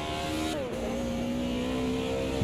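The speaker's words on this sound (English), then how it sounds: "I really like the sound of the M3. Really nice sounding car." A BMW M3 racing engine in the video game Automobilista 2 screams at high revs, drops briefly on a gear shift, then climbs again in a steady, sharp howl.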